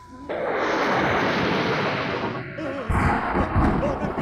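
Thunder rumbling in a long, heavy roll that swells and sustains, then a second loud crack-like surge near the end.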